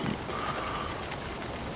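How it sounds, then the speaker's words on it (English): Heavy winter rain beats steadily down at a carp fishery, a dense continuous patter on nearby surfaces with no speech. "rain has been absolutely battering down"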